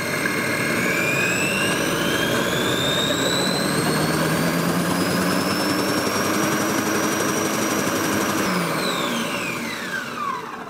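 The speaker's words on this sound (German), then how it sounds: "Jetzt mixen wir das da schnell" A kitchen blender whirs through pumpkin soup with a loud, steady high-pitched motor whine, close and continuous for the whole stretch, its pitch climbing slowly and then dropping near the end.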